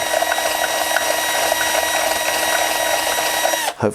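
A power drill bores and widens a hole in a hobby miniature model, a steady loud whirring grind with a high mechanical whine that runs continuously, then abruptly cuts out near the end.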